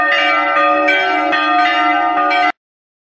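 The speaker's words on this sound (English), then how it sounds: "on Christmas Day, the bells rang joyfully" Church bells ring out joyfully at dawn on Christmas Day morning in Greece, a loud, sustained peal of overlapping metallic strikes with bright ringing overtones, clear and alone for about two and a half seconds before cutting off.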